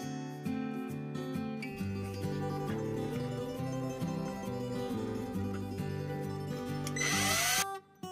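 A power drill bores holes into a bottle cap, one piece of an automatic hand-sanitizer dispenser build. Steady close whine carries a shifting pitch for several seconds, then a brief harsh burst as the bit bites through before stopping.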